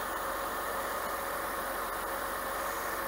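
A Mercedes SL280 R129 engine idles steadily just after a cold start, a smooth, even low rumble running without a miss, close by and alone.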